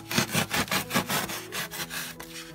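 Utility knife slicing diagonally through a styrofoam box to make drainage cuts, a close, repeated rasping stroke sound in a steady back-and-forth rhythm, about five or six strokes, with no talking.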